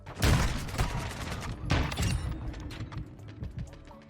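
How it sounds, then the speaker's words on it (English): Sniper rifle shots in a first-person shooter video game, two loud cracks followed by echoing tails, with fainter game sounds around them. "I think I shot him in the arm right there."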